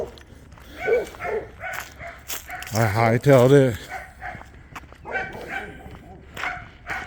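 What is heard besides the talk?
dogs barking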